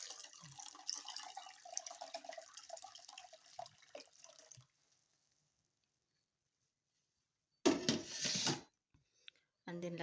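Water pours steadily into a cooking pot for glutinous rice for about four and a half seconds, a close splashing rush that stops abruptly, then returns as a short louder burst near the end.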